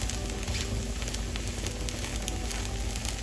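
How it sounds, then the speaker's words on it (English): Rava (semolina) dosa frying in a pan on low-medium heat, a steady close crackling sizzle with fine popping, continuous and even throughout with no talk. "Just fry for another 1 minute on low medium heat"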